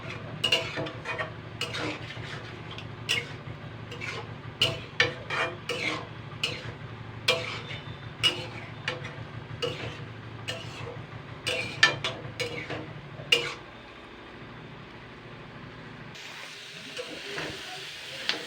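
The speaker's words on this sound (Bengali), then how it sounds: "এবার আমি আলু আর শামুকটাকে ভালো করে কষিয়ে নেবো" Potatoes and snails being stir-fried in a pan, with repeated scraping and clattering strokes of a spoon over a steady low sizzle, close and fairly quiet, before the stirring stops and only a soft hiss remains.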